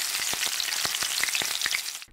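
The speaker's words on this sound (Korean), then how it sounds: "돈가스 튀기는 소리." Pork cutlets deep frying in hot oil, a dense, steady crackling sizzle with rapid bubbling pops throughout, close and loud.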